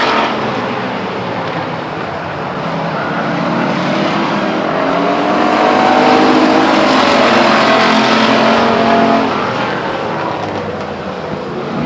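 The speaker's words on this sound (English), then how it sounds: "Mike Graham outbreaks the 40 car of Ray Davis going into turn 3. seizes first place" Race cars, including stock cars with rear spoilers, roar around the short oval at Stockton 99 Speedway in 2001, a loud continuous drone of several engines that swells and fades as the pack passes, with no talking.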